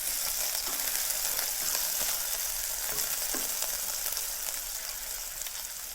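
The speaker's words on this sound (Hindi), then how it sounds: "तेल गरम हो चुका है। अब हम इसमें 1/4 कप कटे हुए प्याज डालेंगे।" Chopped onions sizzle steadily in hot oil in a pan for chole, a constant close frying hiss with faint crackles and no talking.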